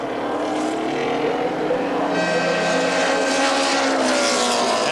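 A race car at a 1982 IMSA race at Lime Rock Park heading into the pits, its engine a loud, steady, droning roar that holds throughout with a slight rise in pitch.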